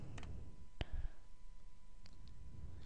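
Several sharp computer mouse clicks while opening files on a PC, a pair near the start, one crisp click just before the one-second mark and another near two seconds, close and distinct over a quiet room hiss.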